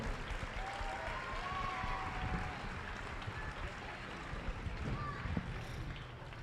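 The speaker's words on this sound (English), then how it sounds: "Let's give a round of applause to Keller." A crowd at a high school basketball rally gives a round of applause, a continuous broad patter of clapping in a large echoing gym, with faint voices and whistles underneath.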